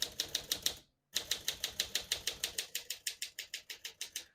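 A 1956 Smith-Corona Silent-Super portable typewriter types in a steady run of crisp, close key strikes, pausing briefly after the first few before the rhythmic clacking resumes.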